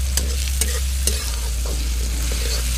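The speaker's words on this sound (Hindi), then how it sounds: "इसको एक मिनट भूजना है बस, सिर्फ एक मिनट में एकदम रेडी हो जाएगा अदरक लहसुन।" Ginger, garlic and green chili frying in a pan for a desi chicken bhuna masala, with a steady close sizzle and the repeated scrape and tap of stirring throughout.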